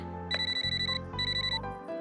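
A telephone rings in a Telugu film scene, two bursts of rapid, bright electronic trilling separated by a short gap, loud and close, with no voices.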